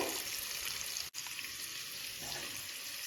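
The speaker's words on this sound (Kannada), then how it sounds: "ಇದು ಇವಾಗ ಚೆಂದ ಫ್ರೈ ಆಗಲಿ" Onion and tomato frying in a pan on a home stove, a steady soft sizzle with hissy texture and a brief dropout partway through, no voices.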